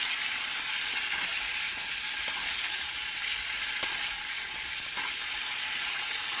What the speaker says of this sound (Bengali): আর নুনটা দিয়ে ভালো করে একটু ভেজে নেবো গাইস আলুটাকে